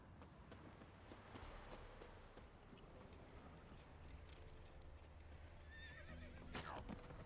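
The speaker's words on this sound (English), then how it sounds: "Why the hell did that horse kick me?" A horse whinnies loudly near the end over a steady bed of clip-clopping hooves and ambient noise in the video game The Witcher 3.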